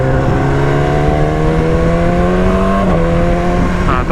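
A motorcycle with a stock exhaust idles and revs steadily with a low, droning exhaust note, holding pitch before a brief blip near the end; no talking.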